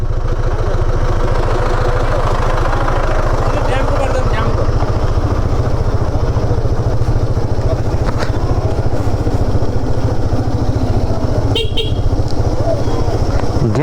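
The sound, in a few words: motorcycle engine idling in traffic jam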